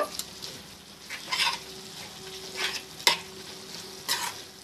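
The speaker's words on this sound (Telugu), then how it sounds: "మళ్ళీ స్టవ్ ఆన్ చేసుకొని అందులో గోంగూర కలిపేసుకొని ఒక 5 మినిట్స్ మగ్గబెట్టేసుకున్నాము" A spoon stirs gongura leaves through a pot on the stove, a gentle scraping that repeats every second or so over a steady, soft sizzle, close and unaccompanied by speech.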